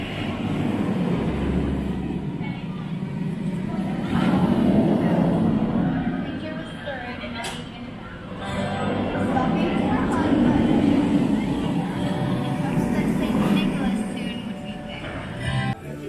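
Candymonium roller coaster train at Hersheypark on a cold night, a steady low rumble swelling and easing across the run as the train passes, with people talking over it.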